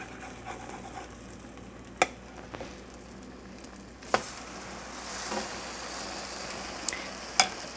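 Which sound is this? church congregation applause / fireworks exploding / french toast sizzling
french toast sizzling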